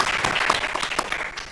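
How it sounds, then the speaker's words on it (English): Conference audience at a deep technologies summit applauding a speaker, a room of steady hand-claps at moderate loudness with a few sharper claps standing out, no speech over it. "A big round of applause to Chandrababu Naidu garu."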